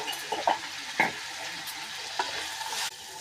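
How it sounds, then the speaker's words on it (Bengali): Hog plums (amra) frying in a pan with salt, turmeric, chili and Kashmiri chili powder for a fish curry, a steady close sizzle with a few sharp stirring scrapes at intervals. "আমড়াগুলো ভাজা হয়ে গেছে,"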